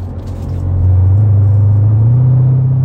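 A Mercedes SLK 55 AMG with its exhaust valves open sends a deep, loud rumble through the cabin, building over the first second into a steady low drone that holds and swells slightly toward the end.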